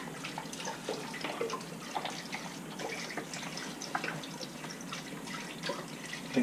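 A whole quart of lower-sodium chicken broth pours into a pot of keto buffalo chicken chili, a steady faint liquid stream with scattered drips and splashes throughout.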